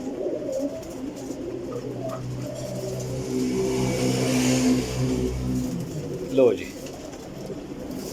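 Pigeons coo in low, soft, repeated calls, with a car revving in the background and someone speaking briefly.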